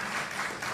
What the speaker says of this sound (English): We should applaud about that.